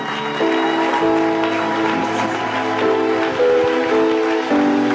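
A church congregation applauds and cheers in acclamation of Jesus, a loud, sustained wash of clapping and voices over a held organ or keyboard chord.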